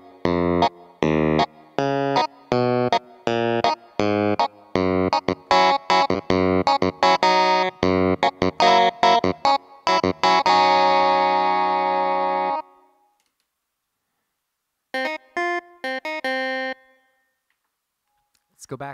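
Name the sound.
amp with drive/distortion effect, Korg SV-1 comparison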